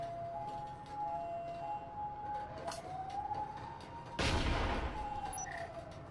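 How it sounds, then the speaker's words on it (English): A frag grenade explodes in the Breachers VR shooter game, a sudden loud burst partway through amid a busy background of tones, clinks and gunfire. "That frag goes wide."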